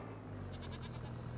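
A goat bleats once, a wavering nasal cry rising over steady low background hum, on a farm.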